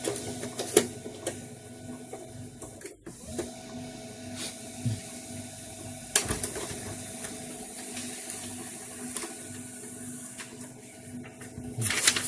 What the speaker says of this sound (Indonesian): Test print.